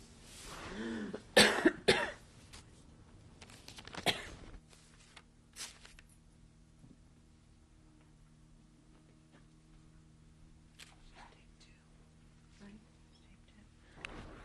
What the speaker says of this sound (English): We stopped because of coughing.